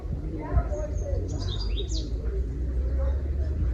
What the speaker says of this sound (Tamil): இந்த சத்தம், இந்த பேட்ஸ் எல்லாம் கத்துற சத்தம்